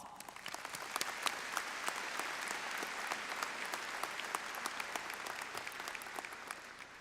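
Sustained applause from a college commencement audience, dense clapping that holds steady for several seconds with no voices over it.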